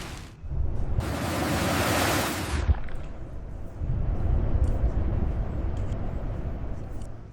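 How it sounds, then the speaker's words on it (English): Storm surge waves crash against a pier, giving a loud roaring rush of surf that swells, fades briefly, then surges again in broad, continuous noise. "Storm surge is upon us. That wave just decimated the main pier."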